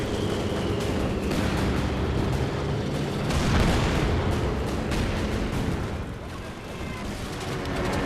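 Artillery shelling on the ground in Company of Heroes 2, with booming explosions and gunfire rumbling beneath a continuous battle din, a heavier blast swelling midway, and a voice talking over it.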